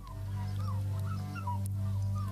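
A dog whimpers in a Pavlov conditioning experiment after meat is shown and taken away, thin rising whines repeating over a steady low hum.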